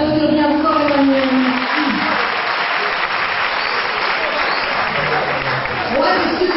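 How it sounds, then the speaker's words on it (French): An audience applauds Emmanuel at a children's show in Congo. The clapping is loud and steady, and overlapping voices talk beneath it throughout. "on peut l'applaudir bien fort, Emmanuel"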